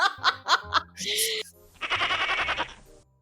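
A person imitates a goat in the middle of a tabletop role-play session, giving a few loud, close, quavering bleats, then a burst of laughter-like vocal noise.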